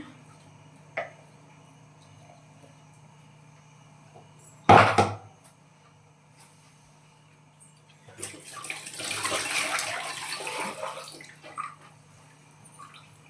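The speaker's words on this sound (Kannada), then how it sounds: "ಸ್ವಲ್ಪ ನೀರು ಹಾಕ್ತಾಯಿದ್ದೀನಿ" A quiet room with a sharp clatter, then water pours for a few seconds in a soft, steady stream into a cooking pot of horse gram and radish sambar, tapering off.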